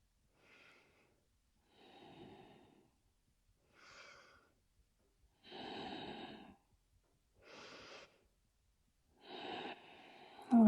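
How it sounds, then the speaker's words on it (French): Slow yoga breathing during a Hatha yoga session: six separate breathy strokes that alternate inhale and exhale at an unhurried, even pace. They are close and soft, with silence between them. "3 respirations ici."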